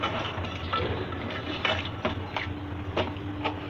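Spoon stirring Shan masala into chicken korma in a cooking pot: a steady run of metallic scrapes and clinks against the pot, irregular and fairly close, over a low background hum.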